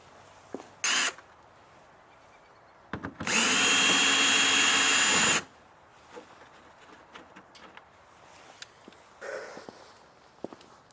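A power drill removes 8mm fender bolts on a Ford F150, with a brief short whir followed by a longer, loud sustained whine lasting a couple of seconds, then quiet tool handling and rustling.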